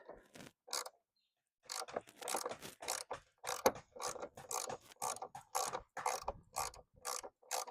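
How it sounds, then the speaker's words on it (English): A ratchet loosens a 10mm bolt on a Toyota RAV4 roof panel during a roof leak repair. Close, quick bursts of clicking come in uneven runs separated by short pauses. "So now we need to remove this 10mm bolt, which is right here."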